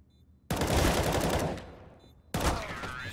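Gunfire in a Counter-Strike match, two loud bursts: a rapid volley that fades over about a second, then a second sharp burst after a short gap, with no talk over it.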